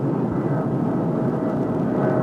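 Fixed-wing airplane in an emergency, a steady, loud, droning engine roar heard from inside the aircraft, unbroken and with no speech.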